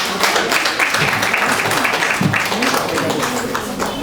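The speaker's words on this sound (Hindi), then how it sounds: "जोरदार तालियां मिस्टर चंचल के लिए" Audience clapping at a Hindi-language event as a speaker is called to the stage, a loud continuous patter of applause mixed with crowd voices and chatter throughout.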